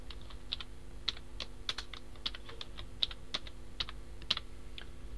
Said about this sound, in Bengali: এটা আমি আগে টেক্সট লিখি, একটা টেক্সট লিখে নিই,